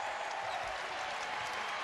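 A home crowd at a UConn Huskies basketball game against Butler rises with sustained applause and cheering, a dense, fairly distant roar that holds steady throughout.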